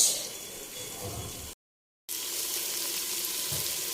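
Whole spices such as fennel seeds frying in oil for a home-style chicken biryani, giving a steady hiss that cuts out briefly and then resumes at the same close, even level.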